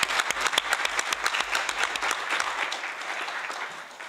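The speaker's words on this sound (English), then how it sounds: "A round of applause for both of you." Conference audience breaks into applause, a mix of distinct nearby claps over a dense wash of hands that gradually fades toward the end.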